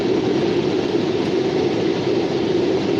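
CSX and Norfolk Southern freight train rolling past at Beaver Falls, Pennsylvania, a steady loud rumbling roar of rail cars without a break, heard nearby with no talking.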